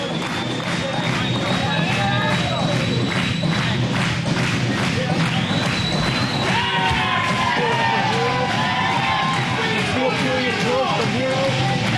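A wrestling crowd roars for Axl Rotten at a barbed wire salt death match: a steady, dense wall of cheering, yelling and whooping with scattered shrill shouts and occasional thuds, loud and unbroken throughout.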